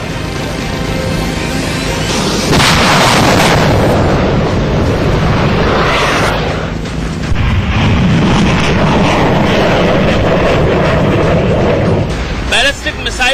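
Agni-5 nuclear-capable surface-to-surface ballistic missile test launch off the Odisha coast, a loud, sustained broadband roar and rumble filling the whole stretch, with a voice mixed in.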